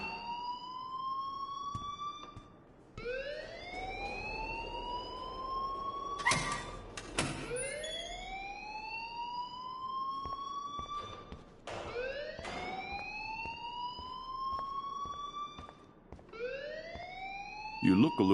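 A wailing alarm from the video game Life is Strange repeats in rising electronic sweeps every few seconds, fairly loud and steady, broken up by a couple of sharp clunks.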